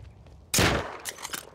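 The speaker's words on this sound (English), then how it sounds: "Are you hip firing?" Rifle gunfire in the video game Rust during target practice: a single loud, sharp shot bursts out and trails off, followed by a few fainter rapid cracks or echoes, with no talk.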